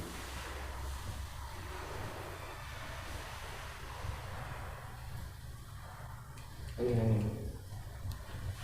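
Soft, steady wind rushing and buffeting the microphone inside an abandoned maternity hospital building in Pontianak, fairly faint, with a brief low hum near the end.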